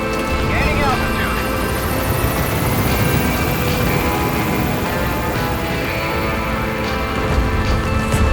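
A helicopter gains altitude in the video game Metal Gear Solid V: The Phantom Pain. A loud, steady rotor and engine roar fills the whole stretch, with voices speaking over it.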